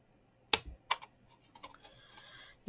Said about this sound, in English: So get your scissors, and we're going to cut this one